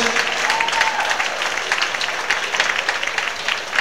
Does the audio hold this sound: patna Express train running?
no